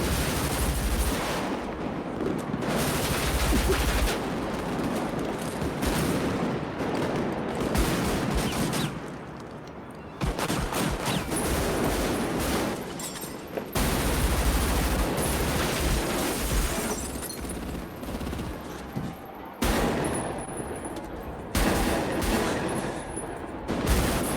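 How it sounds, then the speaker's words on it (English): Dense, sustained automatic gunfire and rifle bursts from the bank robbery street shootout in the film Heat, loud and continuous with brief lulls, no talking over it. "What a fucking shootout, dude."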